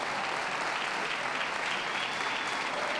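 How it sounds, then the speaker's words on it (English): An audience at a championship dog show applauds, a steady, dense clapping that stays even and fairly distant for the whole stretch. "Round of applause for more, please."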